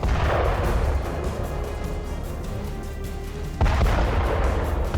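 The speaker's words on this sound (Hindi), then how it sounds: "एक हैवी मल्टीपल रॉकेट लॉन्चर की मदद से रूस जंग का अंजाम बदल रहा था" A Russian heavy multiple rocket launcher fires in combat, giving a loud continuous roaring rush that swells into a sudden, even louder burst near the end.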